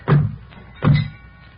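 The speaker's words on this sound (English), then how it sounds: "Slam the doors." Two heavy truck doors slam shut in a classic radio drama sound effect, two loud, dull thuds about 0.75 seconds apart, each decaying quickly into quiet.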